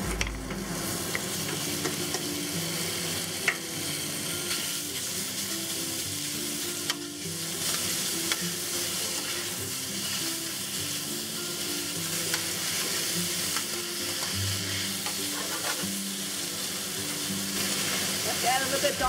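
Beef for beef chow fun sizzles loudly in a hot pan, a dense, continuous fry with spatula scrapes and stirring throughout.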